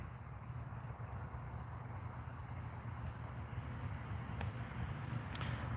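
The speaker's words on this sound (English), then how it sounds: "Can you hear the crickets?" Crickets chirp steadily outdoors in a continuous high, even trill, with a few faint clicks near the end and no talking.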